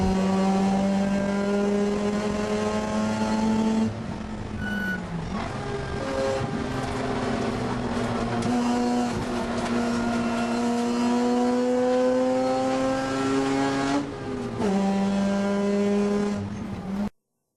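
Touring race cars at Thunderhill Raceway scream past at full throttle, engine notes climbing through gears with crisp upshift breaks, loud and close, then cutting off abruptly at the end.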